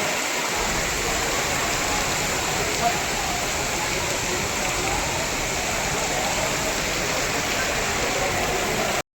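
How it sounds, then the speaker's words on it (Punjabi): Heavy rain pours down in a dense, unbroken hiss that stays loud and steady from start to finish. "ਬਹੁਤ ਜ਼ਿਆਦਾ ਤੇਜ਼ بارش ਹੋ ਰਹੀ ਹੈ"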